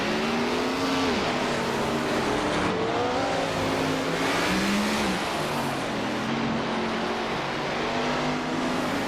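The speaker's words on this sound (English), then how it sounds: "Playboy Carty is driving a 1970 McLaren M6 GT" A 1970 McLaren M6 GT race car engine roars continuously, its pitch rising and falling through revs and gear changes, with other racing cars blending in during a race, loud and close throughout.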